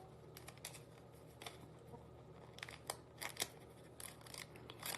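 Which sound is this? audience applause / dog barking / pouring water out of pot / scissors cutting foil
scissors cutting foil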